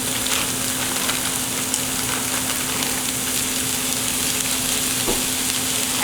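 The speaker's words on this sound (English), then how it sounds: "I just sprinkled a little bit more oil, and I'm adding the coleslaw mix." Coleslaw mix sizzles steadily in hot oil in a pan, a constant close hiss and crackle with no talk over it.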